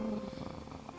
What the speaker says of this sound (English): That is a cat. Come on, that's a cat.